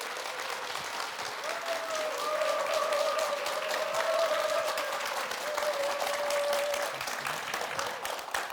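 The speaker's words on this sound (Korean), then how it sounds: "여러분 큰 박수로 맞아주시기 바랍니다." A studio audience on a Korean morning talk show applauds steadily, with a faint sustained tone running beneath the clapping through most of the stretch, swelling slightly in the middle before settling.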